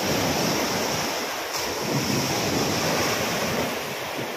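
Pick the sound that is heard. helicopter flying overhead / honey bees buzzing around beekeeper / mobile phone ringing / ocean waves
ocean waves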